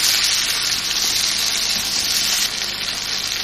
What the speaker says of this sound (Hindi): हल्का से इसको भून के मैं, और इसको मैं ढक दूँगी ताकि टमाटर गल जाए।